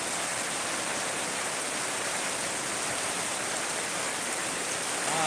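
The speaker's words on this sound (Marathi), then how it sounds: "हा आय थिंक जोराचा पाऊस मी एन्जॉय करतो आहे" Heavy rain falling in Konkan during the first rain of the season: a dense, unbroken hiss that stays even and moderately loud throughout, with no voices.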